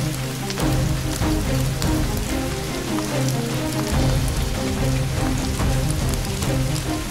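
Heavy rain during a thunderstorm in Andhra Pradesh, a dense, loud, continuous patter of drops striking surfaces with no voices.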